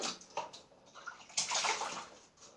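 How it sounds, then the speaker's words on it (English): A razor gets a quick rinse in water during a shave, with short splashy sloshing bursts close to the microphone, quiet overall and lasting only a couple of seconds. "Now we will give that a cursory rinse."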